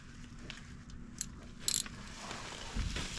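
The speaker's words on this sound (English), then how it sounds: "Take your 14 mil and your ratchet." Ratchet with a 14 mm socket tightening the oil drain plug on a 2024 Nissan Frontier Pro-4X during an oil change; a few faint, brief clicking bursts sit over quiet background noise.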